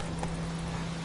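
Roach the horse walking in The Witcher 3, hooves clip-clopping faintly in a quick short run over a steady low hum.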